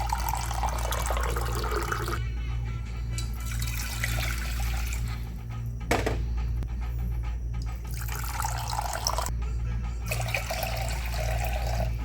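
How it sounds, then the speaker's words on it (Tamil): Two cups of water pour steadily into a pot for ragi porridge, a continuous splashing rush over a low steady hum, interrupted by a couple of brief pauses. "அதில் ஒரு 2 கப்பு தண்ணி ஊற்றிக்கிறோம்."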